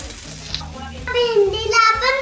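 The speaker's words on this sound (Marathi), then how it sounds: "आता तेल तापलेलं आहे. मग आपण त्याच्यामध्ये भेंडी टाकू." Okra sizzles and fries in hot oil in a heated kadai, a steady close crackle running under a voice talking.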